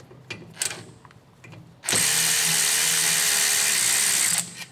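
An electric ratchet spins off a brake caliper bolt on a Ford F-series pickup during a rear brake job, whirring loud and steady for about three seconds after a few light clicks and taps.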